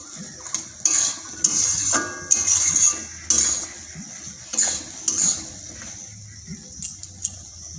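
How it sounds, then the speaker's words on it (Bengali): Coconut ghugni with garam masala is stirred in a pan, repeated metallic clinks and scrapes of a spoon against the pan in an uneven rhythm, close and fairly loud. "এরপর দিয়ে দেবো গরম মশলার গুঁড়ো দিয়ে আরও একবার ভালো করে নাড়াচাড়া করে নেবো"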